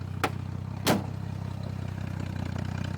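A 1976 Triumph TR6 with dual Lanza exhaust runs at a steady idle outdoors, a low, even engine drone with a couple of brief sharp clatters near the start and no talking.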